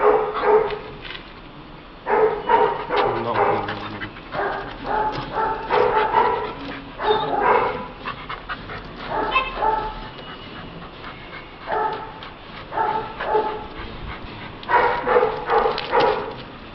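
German shepherd dog barking on a speak command, giving repeated loud, close barks in short bursts with pauses between, some yips and whimpers mixed in, and no talk over it.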